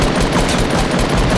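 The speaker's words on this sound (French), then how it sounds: "Ouh, mais il y a du tir ici." Rapid gunfire from a Fortnite battle royale match, a dense loud burst of automatic shots with no voices over it.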